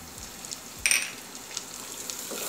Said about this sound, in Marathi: व्यवस्थित मसाले आपल्याला परतून घ्यायचे आहेत